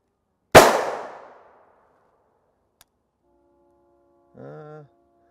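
A single loud .50 AE pistol gunshot fired into NIJ Level IIIA soft body armor cracks sharply and booms, then its echo decays over about a second, followed by a faint click and a brief distant tonal sound.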